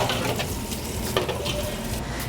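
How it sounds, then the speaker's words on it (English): Liquid boils and sizzles steadily in a hot pan on a kitchen stove, a dense continuous crackle and bubbling close by with no talking. "And then see how that is boiling."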